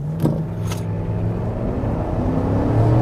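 Chevrolet Tahoe engine in sport mode, a steady low rumble held near and loud throughout, with a faint rising whir suggesting revs building before launch.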